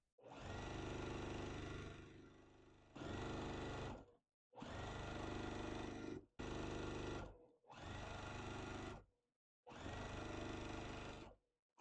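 A sewing machine stitches quilt block sections together in six steady, close runs, each a few seconds long with brief pauses between them.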